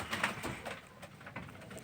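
Pigeons in a dovecote, several birds cooing softly and fighting over nests, low murmuring coos repeating close by amid faint rustling, no speech.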